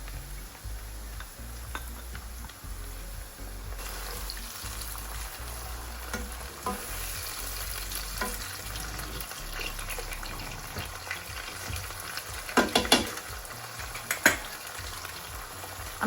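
Softened onions frying in a pan with green chillies and garlic, a steady close sizzle with intermittent stirring scrapes and a few sharper clinks near the end, over a low hum.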